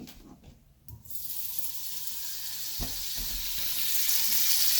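Butter slices for burger buns land in a hot frying pan and start to sizzle. After a brief soft clatter the hiss comes in steadily and grows a little louder over a few seconds.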